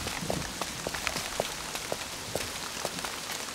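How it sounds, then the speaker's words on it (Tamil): Steady rain falls on a surface, with scattered distinct drops pattering against a continuous hiss, fairly close and even throughout with no talk. "மழை நிக்கிற மாதிரி இல்லையே"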